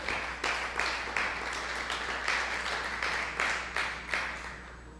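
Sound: church audience applauding

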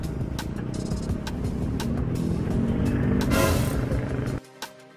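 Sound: Honda RS125 motorcycle accelerating

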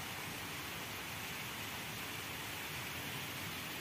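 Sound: heavy monsoon rain falling

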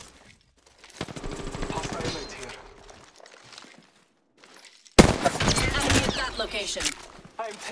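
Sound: gunfire in the video game Apex Legends

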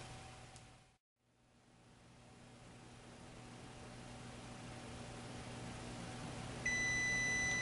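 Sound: kitchen timer beeping while roasting chickpeas

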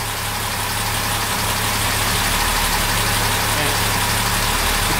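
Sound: car engine idling and revving

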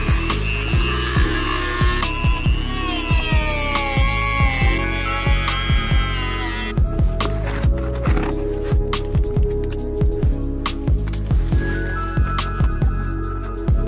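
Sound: Dremel rotary tool cutting plastic part

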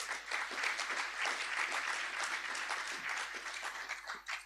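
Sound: audience applause

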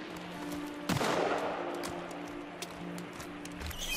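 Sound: gunshots in the video game Sons of the Forest

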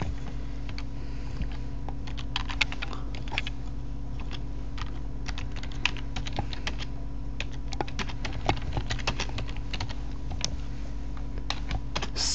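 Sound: typing on computer keyboard

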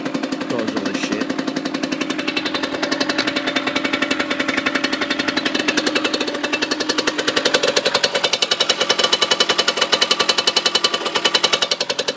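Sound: motorcycle engine running while warming up

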